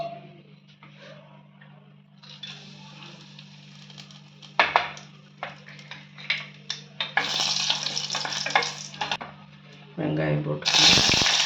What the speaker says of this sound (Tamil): இப்போ நம்ம தாளித்து விட்டுருவோம்.